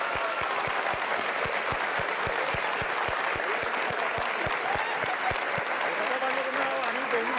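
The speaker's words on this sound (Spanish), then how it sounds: "Ahí va, el aplauso para él." A live variety-show audience applauds a guest's husband with dense, sustained clapping, a steady low thump pulsing beneath it throughout and faint voices mixed in.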